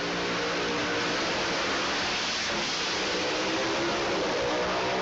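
A dense, steady roar of Pro Alcohol drag racing engines revving fills the whole clip, loud and unbroken, with no voices over it.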